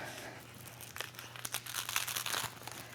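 Cut fabric diamonds are peeled from their backing sheet with close, dry crinkling and crackling that grows busier toward the end.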